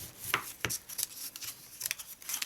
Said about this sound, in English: Fold that over and burnish